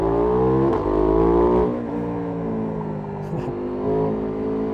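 KTM 990 Duke motorcycle engine revving hard up through the gears on a climb, a loud close harmonic drone that rises, drops at shifts and settles into a steady pull.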